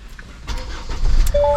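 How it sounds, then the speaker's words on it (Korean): A diesel Kia Carnival minivan engine cranks and catches, settling into a low, steady idle after a brief start-up whir, heard up close. "시동을 켜보도록 하겠습니다."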